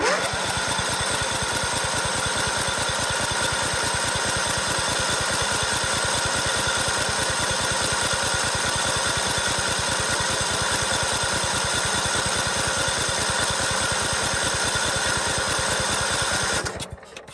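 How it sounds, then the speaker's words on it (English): A Kohler small engine cranked on full choke with the clutch pushed down, its starter churning in a loud, steady, rapid rhythm for about sixteen seconds before cutting off abruptly. "I'm gonna put this on full choke. Push down the clutch, and let's see how long it takes to pull that gas up in there."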